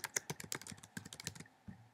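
A short, fast run of keystrokes on a computer keyboard as user details are entered into a form, with crisp, close clicks in a rapid burst that stops, then a single final tap.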